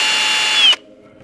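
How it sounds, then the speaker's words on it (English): A power drill whines steadily while boring through the rear bumper of a Ford Mustang S550, then cuts off abruptly after under a second, leaving a quiet tail. "I'm going to go ahead and start drilling through the bumper."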